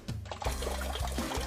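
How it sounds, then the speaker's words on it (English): Coca-Cola poured out of a glass jar holding soaked bread, a soft, close liquid glug and trickle running steadily for over a second without talk. "Let's pour some of this out here."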